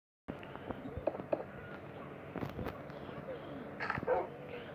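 A dog in Minecraft gives a few short yips and whimpering barks at moderate volume, scattered across a few seconds over faint background noise and quiet game sounds.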